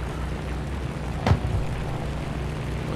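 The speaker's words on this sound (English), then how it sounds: "I hear a plane I don't see." In the War Thunder game, a propeller aircraft drones as a steady low hum, with one brief sharp thump or burst partway through and no voices.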